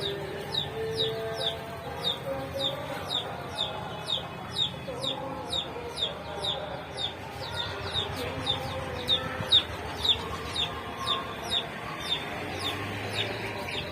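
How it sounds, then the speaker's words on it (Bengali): Small chicks on a rooftop give a steady stream of high, rapid peeping and cheeping, many tiny calls overlapping throughout, close by with faint background noise. "এই মুরগির বাচ্চাগুলো, এই মুরগির বাচ্চা, ছোট ছোট বাচ্চা পুষেছে।"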